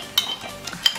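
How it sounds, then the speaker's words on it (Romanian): A spoon stirs cereal in milk in a bowl, giving two or three light clinks and soft wet swishes close by, brief and otherwise quiet. "Amestecăm."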